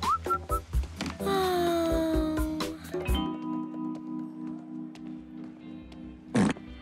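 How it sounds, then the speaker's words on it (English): A remote control fart machine lets out a wet, sputtering blast amid whistling tones and thumps, followed by a sustained low buzzing drone and a short loud burst near the end. "Remote control fart machine."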